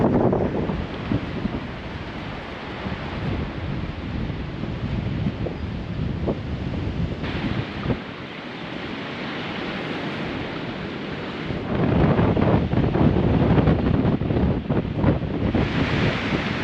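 Strong wind buffets the microphone on a hilltop at Caer Caradoc near Church Stretton, Shropshire, a loud continuous roar that swells and gusts harder toward the end, with no voices.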